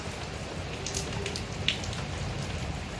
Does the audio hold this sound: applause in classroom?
no